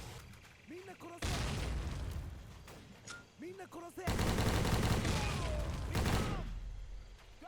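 Video game combat with rapid gunfire bursts and heavy grenade explosions, loud and dense, interspersed with shouted voices between the blasts.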